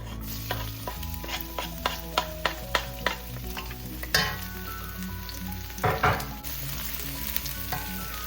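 Garlic sizzles and fries in a little hot oil in a pan over high heat, a steady crackling hiss with several sharp clinks and scrapes of stirring, no voices.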